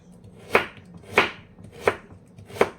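Raw carrots being chopped by knife on a board for a low-carb meal, four crisp, evenly spaced cuts roughly two-thirds of a second apart, close and clear with no voices.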